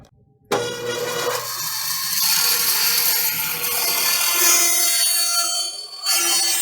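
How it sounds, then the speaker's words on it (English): A bandsaw starts up and cuts an inch-deep line through wood for a mallet, a sudden loud whirring onset followed by a steady high-pitched cutting whine, close and continuous, with no talking. "I'm going to have to go to the bandsaw, set it for an inch deep, and cut this off."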